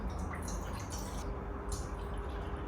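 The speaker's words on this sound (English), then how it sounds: "so now we're going to pour some." Liquid is poured while making a white peach oolong milk tea, a faint, continuous splashing and trickling close by with no voices.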